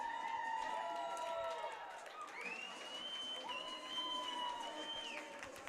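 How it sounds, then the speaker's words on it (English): A college hockey arena crowd between Arkansas and Missouri State roars in a steady, distant wash of cheering beneath a commentator's voice, with sustained tonal sounds rising through it. "Giving the crowd something to cheer about."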